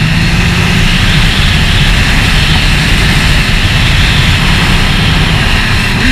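Kawasaki Z1000 SX sport-touring motorcycle accelerating, heard as a loud, steady engine roar mixed with heavy wind rush from on board, sustained throughout without talk.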